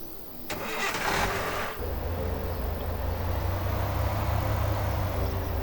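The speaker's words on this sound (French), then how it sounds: "Hop, on va pouvoir prendre la voiture." Car engine starting in the video game Thief Simulator: a short cranking burst followed by a steady, loud idle that continues to the end, with no talk.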